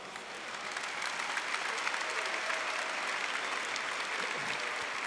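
Sustained applause from a church audience at a Catholic religious gathering, dense and steady throughout, building slightly at the start and holding at a full, even roar of many hands.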